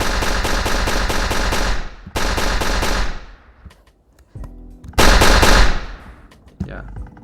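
Rapid automatic gunfire from a test weapon in a Godot first-person shooter game, loud bursts of repeated shots in three volleys with short gaps, ending in a few clicks after the ammo runs out.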